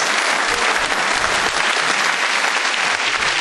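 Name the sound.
audience applause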